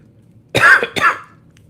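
Two quick, harsh coughs close to the mic, about half a second apart, in an otherwise quiet room.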